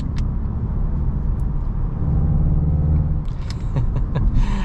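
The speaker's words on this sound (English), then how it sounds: "you can definitely hear the engine noise a little bit better, and the turbo spooling up" A 2023 VW Golf GTI manual's four-cylinder turbo engine drones steadily at close range with a low rumble, its pitch shifting slightly, and faint whistling tones of the turbo spooling toward the end.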